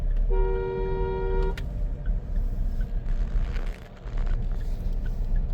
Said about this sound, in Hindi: हॉर्न, ब्लाइंड टर्न है